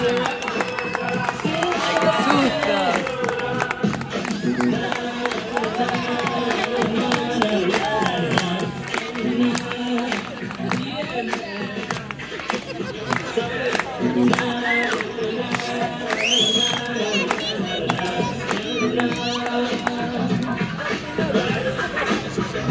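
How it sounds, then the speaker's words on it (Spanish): A crowd cheers, claps and shouts at a lively party runway show, the noise steady and loud for the whole stretch, with music and voices mixed through it. "Un aplauso para Tomasita de Pilar."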